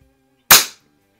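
A single sharp shot from a Weihrauch HW50S spring-piston air rifle firing Meisterkugeln pellets, a crisp close crack that decays within a few tenths of a second, with silence before and after.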